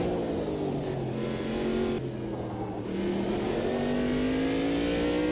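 LMP2 race car engine in the sim racing game Automobilista 2, a loud steady high-pitched roar climbing through the revs with brief dips at gear changes.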